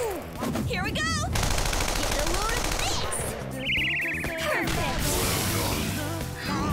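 Uzi submachine gun fire in Persona 5 Royal during a flashy attack: loud rapid bursts mixed with crashes, whooshes and musical effects, with voices over the dense, busy action.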